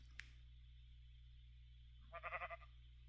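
A pink sheep in a video game gives a short, quavering bleat late on, a brief burst standing alone against a steady low game hum after an earlier faint click.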